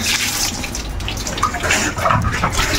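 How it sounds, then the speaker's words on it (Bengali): Water splashes and drips over a dog during its bath, a steady wet rush with small bursts of dripping and spatter, close and fairly loud throughout. "এই যে দেখো গায়ে জল পড়েছে আর কেমন করছে"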